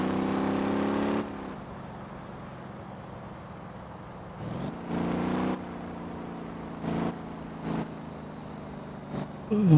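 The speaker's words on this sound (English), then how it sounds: "Someone's driving around a cop car." A police car driven in the video game Motor Town: a steady engine hum that drops out and then returns in several short bursts, as if revving and easing off the throttle, with no talking.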